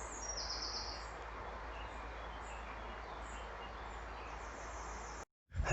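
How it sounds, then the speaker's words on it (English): Birds sing faintly along a forested tarmac cycleway, a few thin chirps over steady wind and rolling noise before a brief dropout and a loud burst at the end. "Beautiful bird song."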